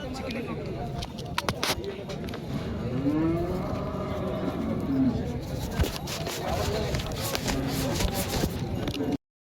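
Cattle at a rural bull market in Vasmat taluka, Hingoli, with a drawn-out moo rising over a busy crowd, shuffling and scraping, and people talking throughout.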